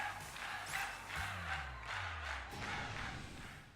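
Cheering crowd in Pokémon Violet: a faint wash of massed voices swells and roars in waves over a low rhythmic thumping beat.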